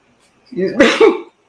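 One sneeze, close and fairly loud, with a short voiced build-up and a breathy burst that ends quickly.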